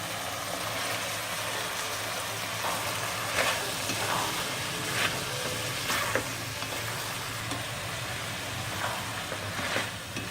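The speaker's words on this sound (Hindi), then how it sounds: "एक मिनट भून जाएंगे इसे।" Steady, loud sizzling of boiled vegetables frying with red chili and garam masala in a pan for biryani, with occasional soft scrapes and stirring sounds throughout.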